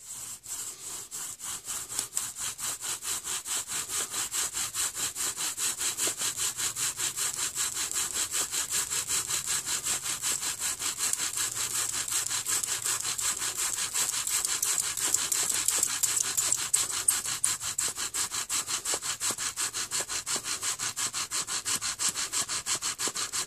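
A bow drill spindle rubs rapidly back and forth against a wooden fireboard for a friction fire, producing a loud, close, rhythmic squeaking rasp with even strokes that continue steadily and speed up slightly toward the end.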